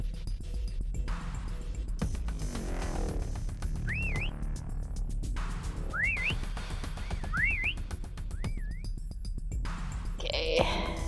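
Rising electronic whistle signals sound several times in a Call of Duty Mobile Prop Hunt match, short upward-sliding tones spaced a second or two apart over steady game background noise and movement sounds.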